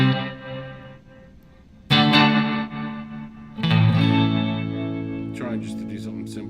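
Meris MercuryX effects pedal with LFO flutter processing three struck guitar chords, each ringing out with wobbling, warbling modulation; the last tail is smeared by flutter, with speech faintly mixed in.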